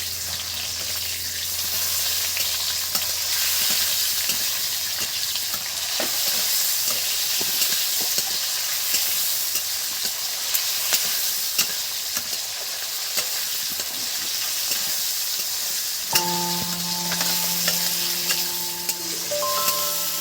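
Chopped tomatoes fry with onions in a pan of green peas snack, giving a continuous loud sizzling hiss with stirring scrapes, while faint tonal sounds creep in near the end.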